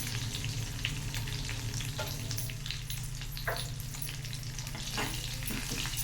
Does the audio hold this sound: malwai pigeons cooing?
no